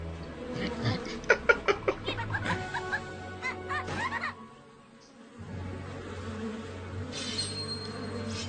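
Cartoon bees buzz in an animated My Little Pony episode, a brief swell of insect droning mixed with a rhythmic run of chirpy, giggling sounds, then a pause and a renewed steady hum.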